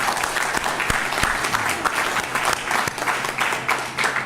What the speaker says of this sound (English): So let's give a round of applause for all of those things.